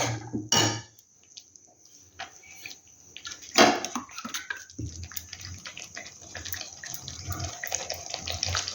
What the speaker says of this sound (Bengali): একটু বাড়িটা ধুয়ে আমি একটু জল দিয়ে দিচ্ছি